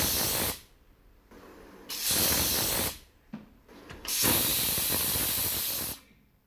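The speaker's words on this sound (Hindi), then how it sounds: "कुकर की सीटी पे कहाँ डांस होता है यार" Bursts of loud hissing steam from a pressure cooker whistle come and go in several long blasts separated by short quiet gaps.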